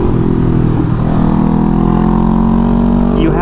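A Honda SCL500 motorcycle with its 500 twin engine runs steadily at cruising speed, a loud constant drone with wind noise, while a rider talks over it.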